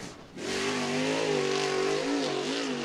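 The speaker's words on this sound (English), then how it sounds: "All right, 1 more lap here from Colin Weinbarger." Late model race car at full throttle on a dirt speedway during a qualifying lap, a loud, steady engine roar holding close throughout with slight pitch shifts and no pass-by fade.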